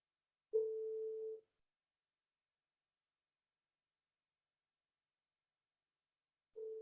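Telephone busy signal heard when returning a caller's call: one steady tone lasts just under a second, then a long silence before the next tone starts, with no voices.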